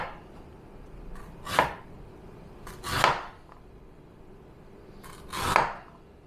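A kitchen knife slices through fresh ginger on a cutting board, three firm separate chops spaced a second or more apart, close up over a faint room hum with no voices.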